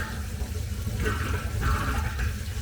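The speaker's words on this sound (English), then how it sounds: "And there you go, it's draining." Water gurgles and rushes as a Bosch dishwasher drains after an E-24 drain fault is fixed, a steady close swishing with two stronger surges partway through.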